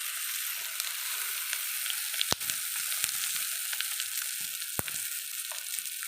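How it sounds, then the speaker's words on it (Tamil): Mustard seeds popping and spluttering in hot oil, a steady dense sizzle broken by a few sharp crackling pops, close and continuous with no voices. "கடுகு நல்லா பொஞ்சிட்ருக்கு"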